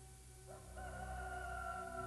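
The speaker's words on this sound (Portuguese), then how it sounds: "Imediatamente um galo cantou." A rooster crows once, a faint drawn-out call rising then holding steady above a low, continuous background hum.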